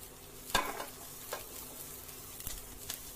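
Onions frying in a pan with a quiet, steady sizzle, broken by a few sharper stirring scrapes and clicks, heard alone without talk.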